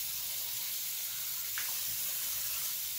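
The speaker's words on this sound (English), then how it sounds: "So first up, I wet my face." Tap water runs steadily for washing the face, a broad even hiss that stays constant at close range with no voices.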